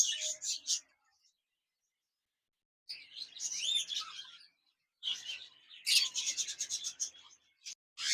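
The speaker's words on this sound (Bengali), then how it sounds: "এখানে দেখতে পাচ্ছেন একজোড়া জেব্রাফিস পাখি রয়েছে" A pair of zebra finches in a cage call in short bursts of high, nasal chirps and twittering trills, close and clear, separated by silent gaps.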